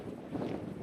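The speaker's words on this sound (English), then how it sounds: "oh, it's windy, it's cold" Gusty wind buffets a microphone outdoors in cold weather, a steady low rumbling roar with no voices over it.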